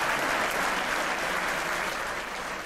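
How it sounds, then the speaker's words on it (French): Warm applause from an audience at an evening conference introduction, a thick continuous wash of clapping that holds steady and fades slightly at the end, with no speech. "Alors effectivement, on peut l'applaudir."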